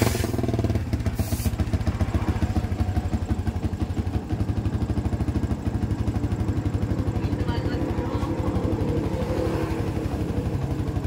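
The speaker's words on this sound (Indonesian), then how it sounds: "Sekarang hidupkan motornya dahulu mas." A Yamaha Vixion motorcycle engine idles steadily with a fast, even putter and mechanical clatter, close by and continuous after a brief start-up, with a voice talking over it during a battery charging check.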